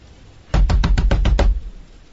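A locked door is pounded by a fist in an audiobook sound effect: about seven loud, fast heavy knocks in a quick burst lasting around a second, close and alone with no voices.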